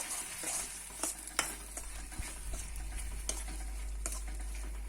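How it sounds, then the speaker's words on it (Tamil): Chilli powder, turmeric and salt frying and being stirred in a pan for traditional garlic kuzhambu, a steady close sizzle with scraping spoon strokes throughout. "போட்டு நல்லா வணக்கி விட்டுடலாம்."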